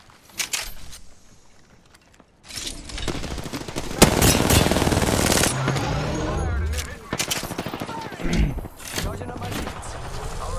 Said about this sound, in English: I thought that was teammates shooting at me.